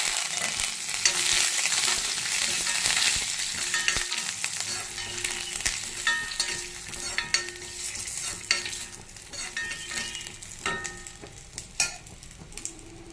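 Curry leaves and dried red chilies frying in oil with cumin, a loud burst of crackling and spitting that settles into an uneven sizzle with scattered pops and spoon scrapes.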